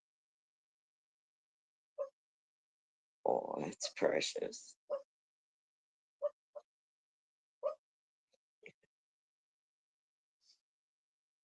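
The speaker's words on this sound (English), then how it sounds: "So if you hear him, that's that he's having little puppy dreams." A sleeping, dreaming puppy named Ryder lets out short, soft yips and whimpers in scattered single bursts amid near silence, with a quiet voice speaking briefly in the middle.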